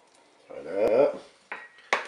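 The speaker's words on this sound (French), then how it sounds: "Je mélange un petit peu." Rice and mussels stirred in a Cookeo multicooker, with a few short scraping clatters of a utensil against the pot; a brief voice is heard in the middle.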